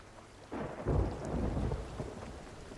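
Thunder rumbles in a stormy sea setting in the video game Sea of Thieves, a deep, loud roll swelling over a steady hiss of rain, with no talking.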